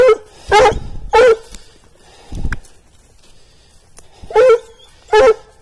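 A female dog barks in sharp, loud bursts, four or five spaced barks close by while tracking a deer outdoors, with no talk over them.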